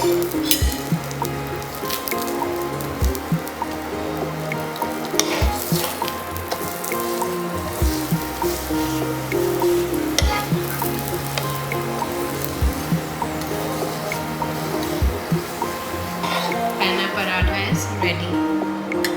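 A paratha roasting in ghee on a hot pan, with continuous crackling sizzle and soft squishing as it cooks. Music plays underneath, and the sizzle holds steady and close throughout.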